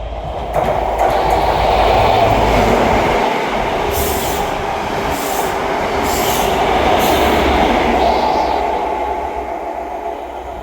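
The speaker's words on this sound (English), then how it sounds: "Passing through now is the 1541 ScotRail service from Edinburgh Waverley to Aberdeen." A ScotRail passenger train from Edinburgh Waverley to Aberdeen runs through Dalmeny station, a loud sustained rumble of wheels on rails with rhythmic clatter and faint squeal, close by and steady before easing slightly at the end.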